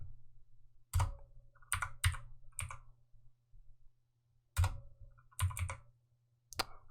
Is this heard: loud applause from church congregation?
no